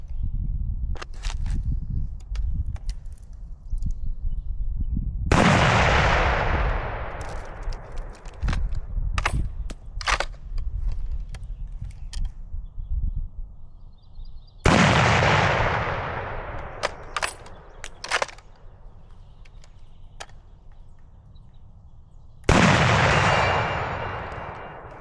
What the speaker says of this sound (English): let's start off shooting the M1917. So 30-06, we're at about 175 meters.